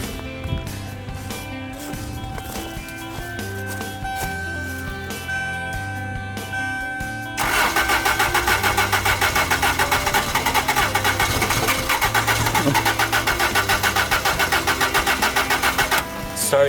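Worn car engine struggling to start: a rough, uneven idle chugging with metallic ticks, then a loud, dense roar as it catches and runs harder for several seconds before easing off near the end.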